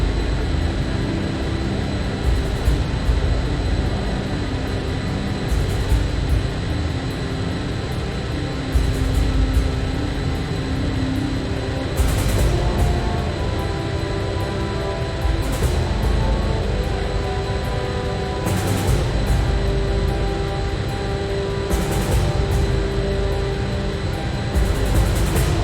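Jet aircraft flying in formation in the Ace Combat 5 video game, a steady loud engine roar that fills the whole stretch, broken by periodic bright bursts of noise, with no voices.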